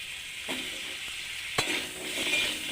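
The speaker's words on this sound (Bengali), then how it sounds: "কুমড়োগুলো ওরকম লাল লাল ভেজে নেব।" Pumpkin pieces fry in oil with a steady close sizzle, broken by a few sharp scraping stirs of a utensil against the pan.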